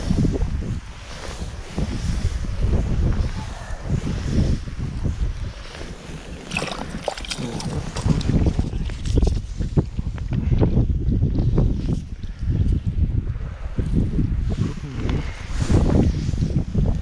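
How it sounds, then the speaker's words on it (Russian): Strong gusty wind blows across a lake during a March fishing trip, buffeting the microphone with loud, continuous low roaring that swells and eases in gusts throughout. "Ребят, ну ветрище."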